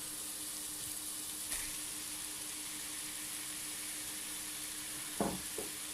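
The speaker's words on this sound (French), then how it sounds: "Là, on va ajouter les tomates." Tomatoes added to a frying pan of chillies for a three-flavour fish dish sizzle steadily at moderate volume, with a couple of brief clinks and stirring knocks near the end.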